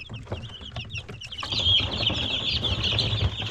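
Sixteen-day-old chicks in a brooder peep in high, rapid chirps, sparse at first and then a busier continuous chorus close by, with faint rustling and scratching underneath.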